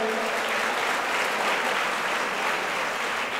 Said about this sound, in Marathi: सचिन कांगणे सर यांच्यासाठी एकदा जोरदार टाळ्या होत्या